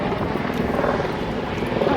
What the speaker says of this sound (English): helicopter. Maybe the news,